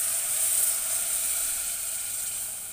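Chilli, turmeric and ground masala juice hit hot fried onions in a pan for a Karli fish curry, giving a steady, close, bright sizzle and hiss that fades only slightly, with no talking.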